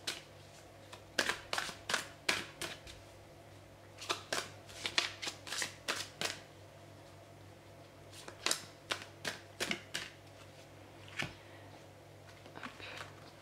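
Cards from a children's card game being shuffled and drawn, a series of quick crisp riffling flutters in bursts with pauses, close and fairly quiet over a low steady hum.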